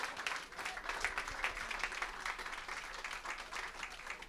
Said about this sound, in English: how about a round of applause for this terrific panel discussion tonight